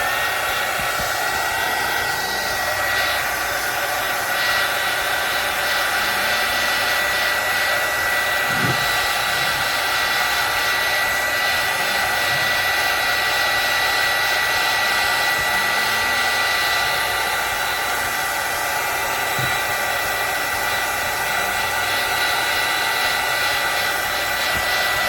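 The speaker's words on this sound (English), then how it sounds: "now that I got my hot gun, aka heat gun, I can dry my paint" A heat gun runs continuously close by while drying craft paint, giving a steady, loud blowing hiss with a faint whine and no letup.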